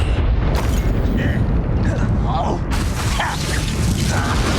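A Confringo blasting spell exploding in Hogwarts Legacy, loud rumbling blasts and crackling bursts close by, with voices talking over the constant roar.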